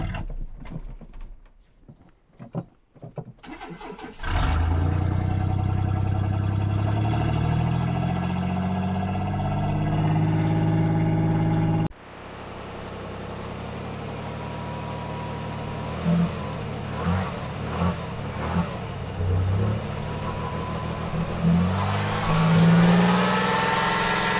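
A truck engine converted from throttle-body injection to a carburetor starts after brief clicks and settles into a steady idle while warming up, close and continuous, with some revving near the end.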